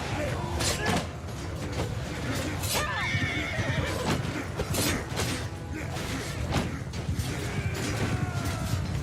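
Cavalry horses in the Old Realms mod of a medieval battle game neigh and whinny repeatedly over a steady rumble of galloping hooves, with clanking and shouting voices mixed into a dense, continuous battlefield din.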